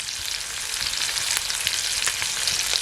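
Khadas river fish frying in a pan over a low flame, giving a continuous close crackling sizzle with small pops scattered throughout and no voices.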